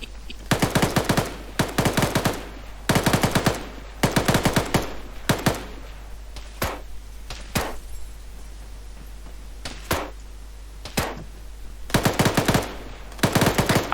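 Video game gunfire during a military training session, repeated rapid bursts of automatic fire in clusters with short gaps and occasional single shots, loud and close, over a constant low background hum.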